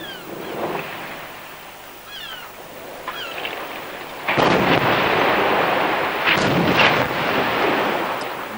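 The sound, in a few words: explosive demolition of Poole power station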